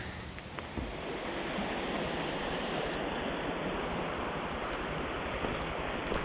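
Rausch Creek at Rausch Gap, Pennsylvania, rushes steadily alongside a trail, a continuous broadband wash of flowing water close by with no voices.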